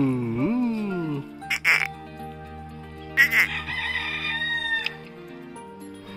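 Chickens in a village yard, a hen with many small chicks, cluck and call up close in loud, broken bursts with some crowing-like cries mixed in.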